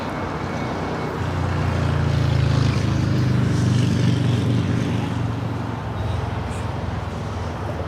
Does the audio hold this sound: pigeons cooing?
no